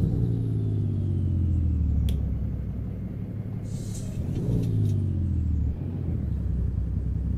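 Heavy truck engine in American Truck Simulator, a steady loud low drone whose pitch drops and climbs again through a gear change, with a brief hiss near the end.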